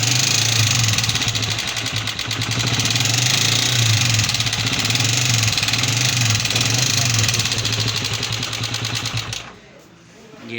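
A Honda CG 125 motorcycle engine idles steadily and loudly with a rapid, uneven putter, running continuously before cutting off abruptly near the end.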